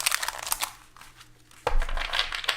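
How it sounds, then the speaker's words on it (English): Tarot cards shuffled by hand, a loose crinkling riffle with a pause, then a louder burst of papery shuffling close up. "Why are these shuffles so bad?"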